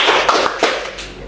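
A class claps together in a short patterned rhythm during a micro-teaching session, with several quick loud clap bursts close by.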